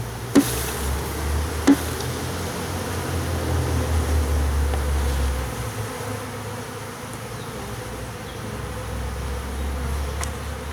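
A dense, steady drone of many honey bees buzzing around a hive nearby, with a couple of brief knocks early on.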